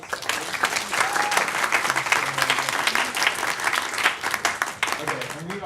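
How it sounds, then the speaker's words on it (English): An audience at an EdTech meetup claps in a loud, sustained burst of applause. Voices can be heard through the clapping. "All right, round of applause."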